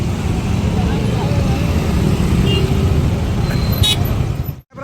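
Traffic grinds along a blocked ghat road on the way to Jejuri, a continuous low engine rumble of several nearby vehicles, with a brief higher whine near the end before it cuts off.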